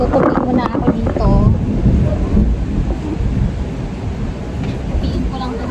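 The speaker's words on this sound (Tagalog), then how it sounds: "Rinig nyo lang guys na umuulan na siya guys." Heavy rain pours down at home as laundry is folded, making a steady broadband roar with low rumbling underneath. A voice talks briefly over the downpour.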